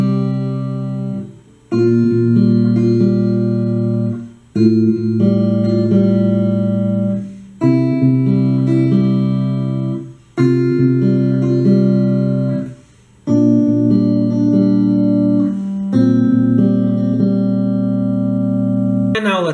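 Electric guitar plays a riff from a song, clear sustained chords picked in repeated phrases with short gaps between them, loud and close.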